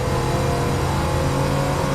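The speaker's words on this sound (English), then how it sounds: "Forza Horizon 5, a game that just came out in this decade, has engine sounds that are like a off-roading game from the 2000s" Car engine in the racing game Forza Horizon 5 revving hard, a loud, continuous buzzing drone with strong low harmonics that holds steady for a couple of seconds, alone with no talk.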